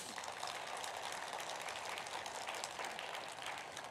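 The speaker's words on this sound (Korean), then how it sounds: "우리 의사 선생님들 위해서 박수 한번 쳐주세요." A church congregation applauding for doctors during a Sunday service, a steady faint wash of many hands clapping together in a large room, heard at a distance without talk.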